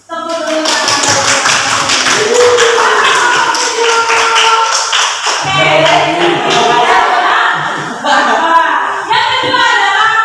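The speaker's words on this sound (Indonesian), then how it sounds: "Tepuk dulu tangan." Classroom students clap their hands in quick rhythmic patterns while voices chant along loudly; the clapping is steady and close, with a brief pause midway before it picks up again.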